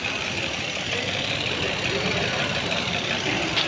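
Car engine idling steadily during air-conditioning refrigerant charging, a constant low rumble with a faint cooling-fan hiss, no speech.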